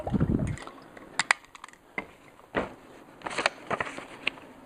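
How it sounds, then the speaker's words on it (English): A drink being poured, soft liquid splashes and small clicks coming in short separate bursts at close range, with no talking over them. "Just going to pour myself a drink."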